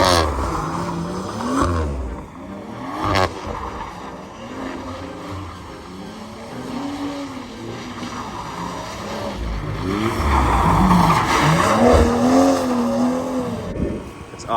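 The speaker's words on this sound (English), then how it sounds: "I always got my cones with me just in case I want to practice swinging the car." A BMW 440i Gran Coupe swings around cones, its engine revving and rising in pitch with repeated tire squeals, heard at moderate distance amid ambient background noise.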